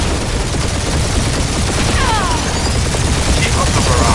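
Loud, continuous gunfire barrage in the Guardians of the Galaxy video game, dense overlapping shots and blasts with whooshing effects, spread through the whole stretch.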